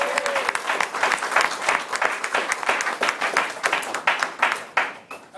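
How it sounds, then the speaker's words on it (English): A modest audience gives a round of applause at a meeting, with individual hand claps clearly distinct in an uneven, close-sounding patter. "All right, let's give Sebastian a round of applause."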